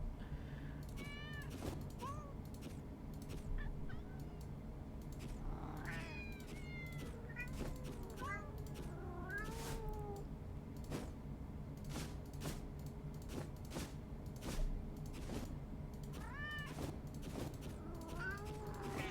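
Repeated game cat meows from I Commissioned Some Cats, short and long mews scattered throughout at a steady quiet level, with no talking.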